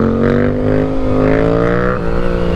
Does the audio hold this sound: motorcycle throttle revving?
yes